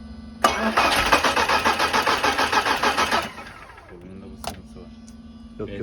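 An Audi S3 quattro of the 8L generation cranks and fires, then revs hard in a fast, pulsing burst for about three seconds before settling to a steady idle, loud and close, with brief voices near the end.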